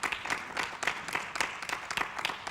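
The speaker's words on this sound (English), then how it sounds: "Let's give all of our panelists a round of applause, please." Steady applause from a crowd for a panel, dense overlapping claps continuing throughout at a fairly even level.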